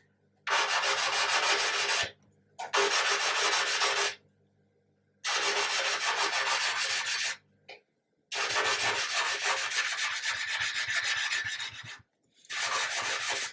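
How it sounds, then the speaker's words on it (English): Abrasive rubbing of 400 grit sandpaper across a seam on a plastic 1/200 Trumpeter Scharnhorst model ship hull, four steady close strokes of dry scratchy friction separated by short pauses, with no talking. "I'm going to start with some fairly coarse ones. So this is a 400."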